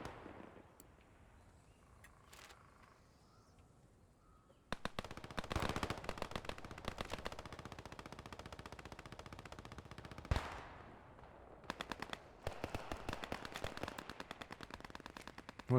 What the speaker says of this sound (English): I think I hear a tank battle going on